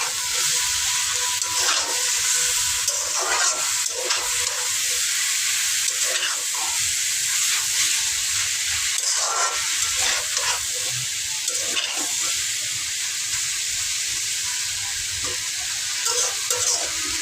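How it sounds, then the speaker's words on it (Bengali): Malabar spinach (pui shak) frying in plenty of oil in a pan, with a loud, continuous sizzle and repeated scraping stirs throughout, heard close up with no talking. "এই যে আমার সব ভাজি প্রায় হয়ে যাচ্ছে, এতেও খুব মজা হবে।"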